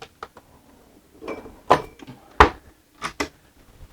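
A drawer of glasses on a 2011 Princess V62 motor yacht is pulled open, giving a few soft knocks and rattles and then several sharper clinks and thuds, close by and quiet, with no talk.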